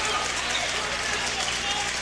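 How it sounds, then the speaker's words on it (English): Bedford basketball home crowd on its feet cheering in a gym, a dense steady roar of voices and clapping filling the space, with a commentator talking over it. "They got the Bedford crowd up on their feet."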